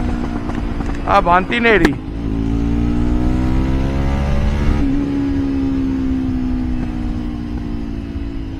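A Jawa or Yezdi motorcycle on a ride to Manali pulls hard in second gear. The loud engine note climbs steadily in pitch, with a brief voice talking over it near the start.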